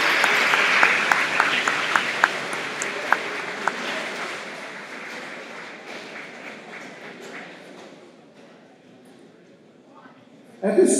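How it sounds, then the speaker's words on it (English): Audience applause fills an awards ceremony hall, loud and sustained with sharp individual claps standing out, then thinning and fading toward the end before a brief burst returns. "Big round of applause"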